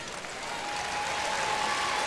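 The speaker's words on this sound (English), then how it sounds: "So Hayes gets a round of applause from the crowd here at the Sundome." A crowd applauds at a women's college basketball game in an arena, a dense, steady clapping that builds slightly and stays loud throughout, with a faint tone running beneath.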